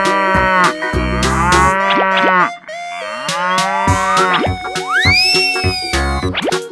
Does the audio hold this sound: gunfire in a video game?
no